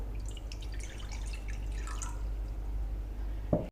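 Water pours steadily into a saucepan, 400 ml for a sauce, a continuous splashing trickle under a low background hum, ending with a small clunk.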